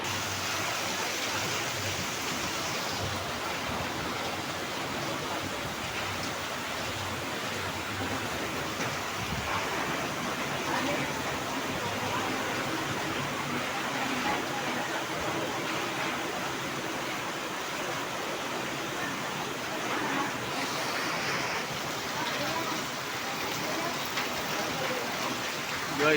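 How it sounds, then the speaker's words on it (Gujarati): Heavy rain pours steadily in Morbi, a dense, loud and unbroken wash of falling water on surfaces that holds at an even level throughout, with no voices standing out above it. "મોરબીમાં ફૂલ વરસાદ ચાલુ."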